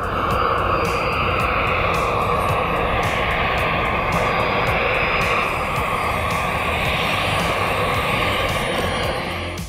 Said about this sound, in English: a turbojet engine producing 80 kilogram force of thrust